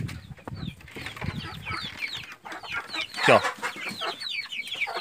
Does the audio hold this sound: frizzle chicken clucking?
yes